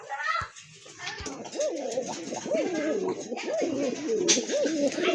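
Several pigeons kept for sale coo repeatedly in a series of rolling calls, close and fairly loud, with faint background voices.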